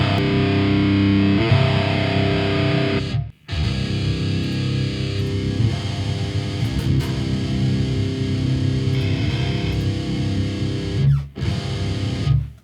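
Heavily distorted electric guitar played through a Celestion G12T-75 speaker and captured by two phase-aligned microphones, a thick, loud sustained chug with brief breaks near the middle and end.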